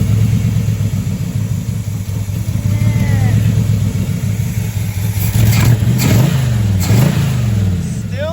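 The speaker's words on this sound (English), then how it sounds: "They don't seem bothered by my broken exhaust." A 1963 Chrysler 300J with a broken exhaust accelerates, its loud, steady low engine rumble rising and rocking as the revs climb toward the end, with faint talk in the background.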